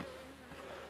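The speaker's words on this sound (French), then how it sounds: "Ça c'est une abeille qui vient nous en quitter." A single bee buzzing near a beehive during hive work, a steady, faint droning hum close by that holds evenly throughout.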